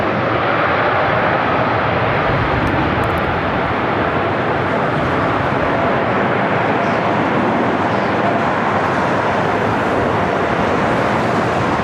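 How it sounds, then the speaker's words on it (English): A Delta Air Lines Airbus A321neo arriving at LAX from Seattle, a loud, steady, close jet engine roar that fills the whole stretch without letting up. "This is Delta Airlines 2752 coming in from Seattle on an A321 Neo."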